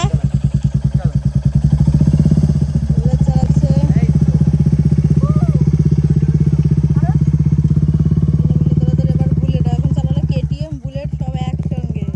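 A motorcycle engine runs with a loud, close, throbbing putter throughout a riding lesson, dipping briefly near the end, while people talk over it.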